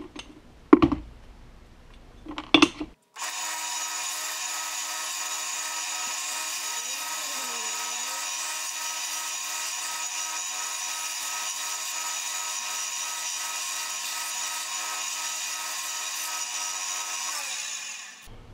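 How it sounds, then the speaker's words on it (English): A bandsaw cuts a bloodwood handle blank for a fillet knife, a steady loud whine of blade through hardwood running about fifteen seconds after a few brief knocks and clatters at the start, then cutting off at the end. "Bandsaw."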